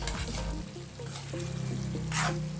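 Pakbet vegetables are stirred in a frying pan, sizzling close by with spatula scrapes and clinks, alone without voices.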